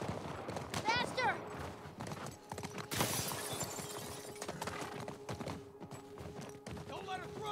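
Horse hooves pound in a fast gallop during a The Last of Us Part 1 game chase, mixed with gunfire and shouting, with a sustained roar midway and voices throughout.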